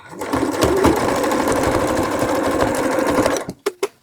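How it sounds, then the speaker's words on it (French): A sewing machine runs steadily for about three and a half seconds, stitching the first seam of a hood on a baby's beach poncho along the existing seam, then stops with a few short separate mechanical clicks. "on va faire la première piqûre de la capuche"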